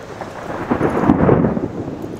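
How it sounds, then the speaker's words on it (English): Thunder rumbles through a thunderstorm with rain falling, a deep rolling swell that builds toward the middle and fades, loud and close with no voices. "And some thunder."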